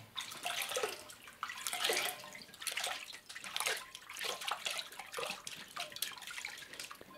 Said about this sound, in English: Now we rinse that off.